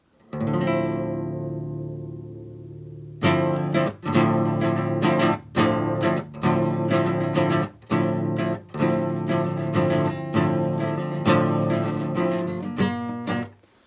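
A guitar chord from the intro rings out and slowly decays, then a steady strummed rhythm follows with repeated chords, loud and close.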